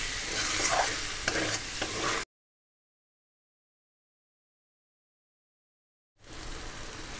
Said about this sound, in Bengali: এবার আমি লো টু মিডিয়ামে খুব ভালো করে মশলা, আলু এবং চর্বিটাকে কষে নেব।